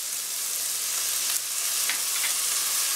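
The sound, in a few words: sizzling as sugar, Ajinomoto and soy sauce are added to pan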